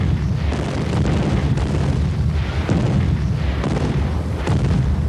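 Sustained opening artillery barrage from more than 2,000 guns in the Italian offensive of May 11th, heard as a dense, continuous rumble of overlapping booms and blasts, loud and unbroken throughout.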